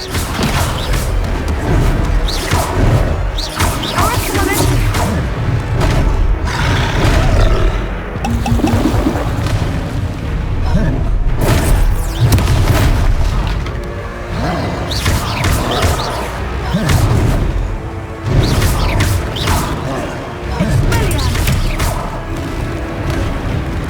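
Descendo spell slams from Hogwarts Legacy, heavy crashing impacts and booming thuds repeating in loud bursts amid busy game effects and music, with a voice briefly heard.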